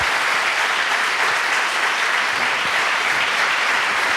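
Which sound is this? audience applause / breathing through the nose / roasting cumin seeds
audience applause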